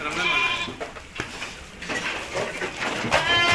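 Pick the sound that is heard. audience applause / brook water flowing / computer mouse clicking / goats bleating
goats bleating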